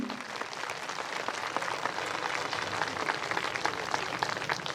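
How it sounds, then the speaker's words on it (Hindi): Soft, dense applause from a gathered crowd at a ground-breaking ceremony in Napier Town, Jabalpur, a continuous patter of many hands, quiet and somewhat distant throughout. "बहुत धीरे ताली बजाई।"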